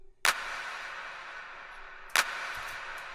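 A clap sample made in FL Studio and drenched in heavy, wet reverb hits twice, about two seconds apart. Each sharp crack trails off in a long, washy decay.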